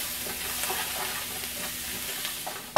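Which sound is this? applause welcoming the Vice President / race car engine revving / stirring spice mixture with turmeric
stirring spice mixture with turmeric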